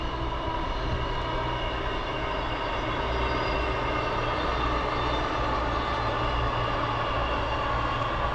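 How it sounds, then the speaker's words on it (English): A Pendolino passenger train on a Manchester to London service runs past with a steady, broadband roar that holds at an even level throughout. "Pendolino service from Manchester going off to London"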